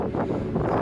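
Strong wind gusting across an open mountainside during an ascent, a dense, steady roaring rumble close to the microphone with no other sounds standing out.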